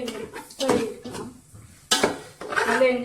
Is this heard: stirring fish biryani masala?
yes